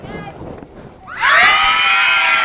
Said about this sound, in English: everyone scream as loud as you can